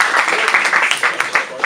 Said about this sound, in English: if you can welcome them all with an applause,